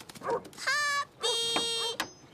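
A cartoon puppy whimpers and whines in two drawn-out, quavering cries with a short yelp at the end, close and clear with no talking over it.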